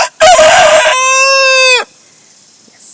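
A farm rooster crows once, loud and close: a rough opening burst, then a long drawn-out harmonic note that falls away, followed by faint clucking from the chickens.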